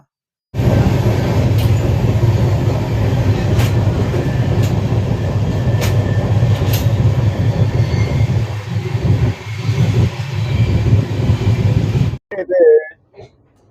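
The Vivek Express passenger train pulls into Vijayawada railway station before dawn with a loud, close rumble of wheels and carriages, brief high squeals, and an abrupt drop near the end.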